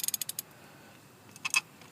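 Ratchet clicks from a 1/2-inch ratchet loosening spark plugs on a 2005-2011 Ford Focus 2.0L Duratec engine, a quick burst of close, crisp clicks at the start, then a quiet gap before a second short cluster near the end.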